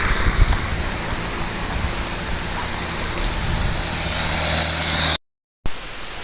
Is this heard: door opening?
no